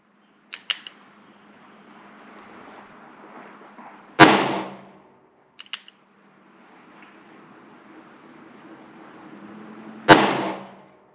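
Two loud, sharp gunshots from a .45 Schofield revolver fired with RCBS-cast bullets, spaced about six seconds apart, each with a decaying echo, with faint clicks of handling between shots.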